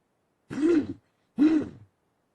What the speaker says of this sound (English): All I do is cough now.